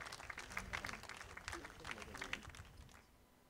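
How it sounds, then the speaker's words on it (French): A room of guests at an evening event applauds a woman invited to give a speech. The clapping is steady and fairly faint for about three seconds, then fades out. "Est-ce qu'on peut applaudir pour Miss Sorgho?"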